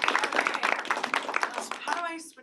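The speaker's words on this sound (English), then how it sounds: "Let's give her a round of applause" An audience at a climate and art guest lecture applauds the guest speaker, a close patter of clapping that fades away at the end, with a voice talking over the last moments.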